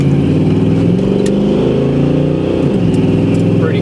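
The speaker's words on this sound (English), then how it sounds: "I'll get on it a little bit so you can see how it shifts." A 1989 Chevy Blazer K5 engine revs hard under acceleration, its loud steady drone climbing in pitch and then dropping sharply near the end as the transmission shifts, close by with no talk.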